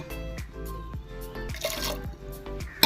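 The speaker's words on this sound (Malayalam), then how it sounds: "അല്പം വെള്ളം ഒഴിച്ച് ഒന്ന് ലൂസാക്കാം" A little water poured into a pot of thick dal with coconut paste, heard as small drips and liquid splashes over continuous background music.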